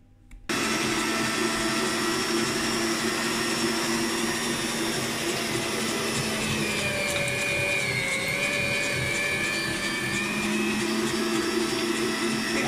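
A Kenwood Chef mincer grinds long thin strips of beef, giving a loud, steady motor whine and churning hum that starts abruptly and runs on without pause.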